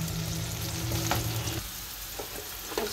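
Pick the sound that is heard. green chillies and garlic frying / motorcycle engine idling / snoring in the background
green chillies and garlic frying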